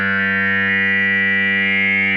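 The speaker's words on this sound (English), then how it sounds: "you can give it that cocked wah sound" A sustained, buzzy fuzz guitar note from an Empress ZOIA pedal patch with a nasal, vowel-like cocked-wah tone, loud and unwavering for a couple of seconds.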